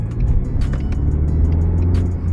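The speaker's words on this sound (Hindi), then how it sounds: "पुलिस की गाड़ी जा रही" A police car drives past on a Canadian street, a steady, loud engine and tyre rumble holding close throughout with no voices.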